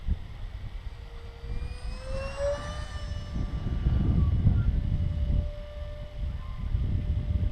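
A Tech-One Neptune EDF wing RC jet makes a low pass outdoors, its ducted-fan whine rising and sweeping in pitch as it approaches and passes, with a steady rumble of wind beneath.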